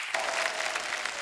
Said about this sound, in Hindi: जोरदार तालियां यार असरानी साहब के लिए